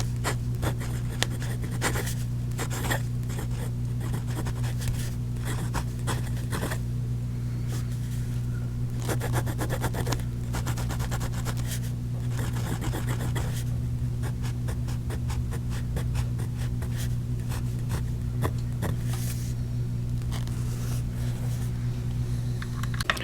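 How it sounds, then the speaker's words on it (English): Hongdian 960 fountain pen, retro orange, its nib writing on paper: a steady close scratchy rustle of strokes and short lifts over a constant low electrical hum, with no speech. "So let's see how the nib writes."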